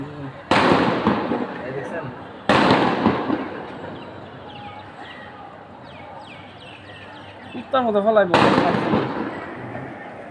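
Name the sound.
gunshots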